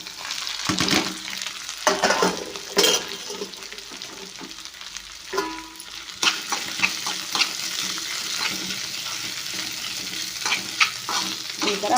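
Okra fries in plenty of oil in a pan, a continuous sizzle broken by scraping stirs and a few sharp clatters of the spoon against the pan.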